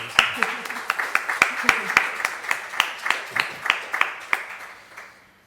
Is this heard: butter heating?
no